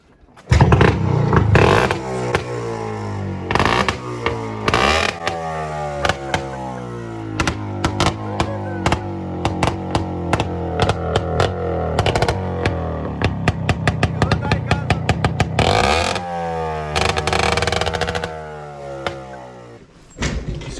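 A Minsk 125 motorcycle engine running and revving, a loud close two-stroke buzz rising and falling through repeated throttle blips, with clattering knocks mixed in.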